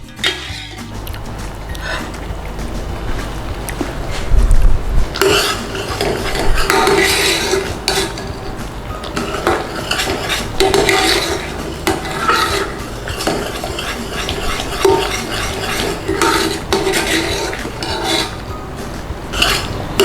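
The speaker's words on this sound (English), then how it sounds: "Give it a good stir around." A spoon stirs water into a sweet and sour garlic chili sauce in a pot, with repeated scraping and clinking against the metal sides over a steady simmering background, close and fairly loud, no talking.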